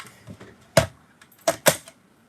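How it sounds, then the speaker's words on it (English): A mini Stampin' Cut and Emboss machine gives a few sharp, close mechanical clicks, a soft knock followed by three louder snaps in quick succession within about two seconds. "Grab out our mini Stampin' Cut and Emboss machine and go click, click."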